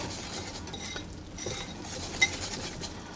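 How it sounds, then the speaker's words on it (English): Egg being stirred into pancake batter in a bowl, a soft continuous scraping and swishing with a few light clinks of utensil against the bowl, close and fairly quiet. "Beat the egg a little bit. Get it in there. And we're going to go ahead and just stir all that together combined."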